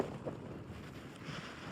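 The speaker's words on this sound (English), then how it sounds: "And this wind is a killer." Strong cold wind buffets the microphone on a high mountain trail on Wheeler Peak near Taos, New Mexico, a steady broadband rush and rumble that continues unbroken and fairly loud for the whole stretch, with no one speaking.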